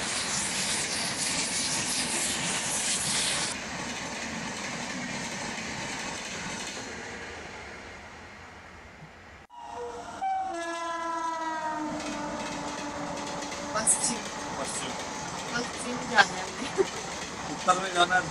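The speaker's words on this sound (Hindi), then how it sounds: "राजधानी एक्सप्रेस" Rajdhani Express rolling past on the New Delhi–Mathura line: a broad roar of the train running by, then a horn blast followed by rhythmic wheel clatter and rail squeal as the cars pass close, with faint voices nearby.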